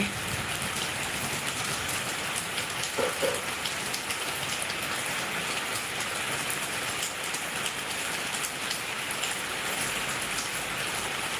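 Afternoon rain falls steadily on surfaces outdoors, a constant dense hiss of drops at an even level throughout, with no voices.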